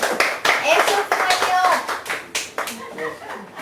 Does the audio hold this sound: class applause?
yes